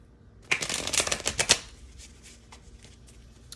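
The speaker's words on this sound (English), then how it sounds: "I'm gonna just shuffle the cards really quick." A quick burst of tarot cards being shuffled close by, a rapid flurry of papery riffles lasting about a second, then a few faint taps.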